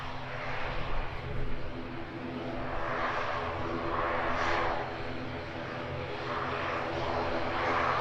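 Aircraft engine roar at Edinburgh Airport, a distant, steady drone that swells and fades slightly over eight seconds, heard without talk.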